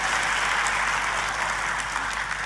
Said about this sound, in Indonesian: Ayo tepuk tangannya yang paling meriah buat Tuhan kita.